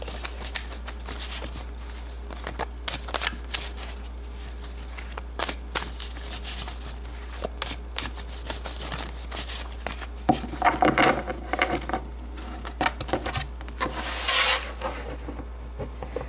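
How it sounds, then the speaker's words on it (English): Tarot cards are shuffled and pulled with soft riffling and rubbing, then denser flurries of card noise toward the end, over a steady low hum with no talking. "So let's pull some tarot cards to get more information."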